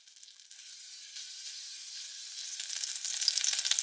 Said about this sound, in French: on va faire fondre la noix de beurre dans une casserole à fond épais.